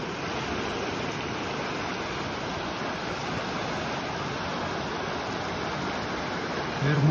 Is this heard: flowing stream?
yes